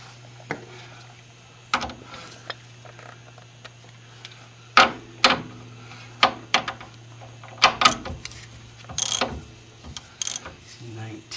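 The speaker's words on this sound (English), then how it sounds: "I want to tighten that nut up right there." A ratchet clicks in short bursts while tightening a nut on the front end of a Mercedes 300D, sharp mechanical ticks at close range separated by pauses, over a low steady hum.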